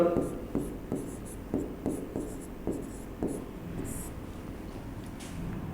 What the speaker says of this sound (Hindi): चलिए देखते हैं, थोड़ा छोटा लिखते हैं भाई